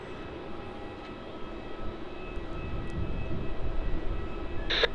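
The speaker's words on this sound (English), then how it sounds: "going to be having the Garuda Indonesia A330-300 going to Jakarta as GA717" A Garuda Indonesia Airbus A330-300 airliner at Melbourne Airport, heard as a distant, steady jet engine roar that swells gradually louder, with a faint tonal whine and a brief sharp click near the end.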